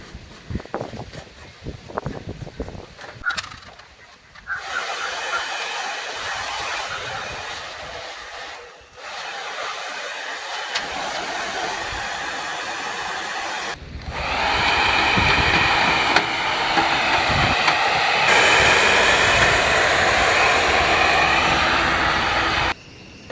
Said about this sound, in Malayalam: അപ്പോൾ നമുക്കിത് മൊത്തം ഒന്ന് ബ്ലോവർ കൊണ്ട് ഒന്ന് ക്ലീൻ ചെയ്യാം.